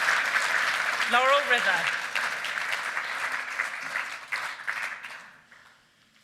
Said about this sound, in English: Let's have one more round of applause for the highest rated dirt horse in the world